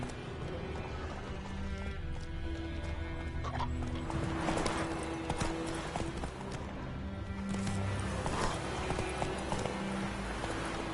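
Hooves of Roach, a horse in The Witcher 3 video game, clip-clop in a steady rhythm at close range over game music and ambience, with a whinny mixed in.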